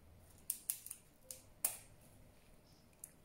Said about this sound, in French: je coupe à l'aide d'un ciseau